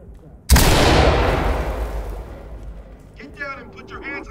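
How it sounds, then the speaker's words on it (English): Flashbang grenade in Ready Or Not, a single sharp, loud bang that decays into a long ringing rumble, followed by shouting voices. "Open clear with flashbangs"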